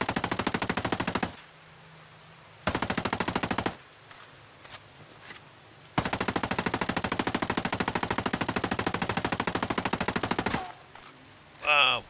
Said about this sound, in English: Shoot that guy, and shoot that guy, and reload.